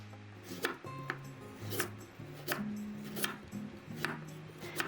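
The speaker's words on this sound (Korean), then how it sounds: "우선 야채를 아주 아주 잘게 썰어줍니다." Rapid knife chops striking a cutting board in quick bursts as vegetables are finely chopped, close by, with faint background hum and no talking.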